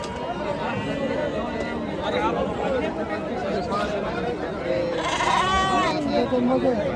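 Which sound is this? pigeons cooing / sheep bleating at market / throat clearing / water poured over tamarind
sheep bleating at market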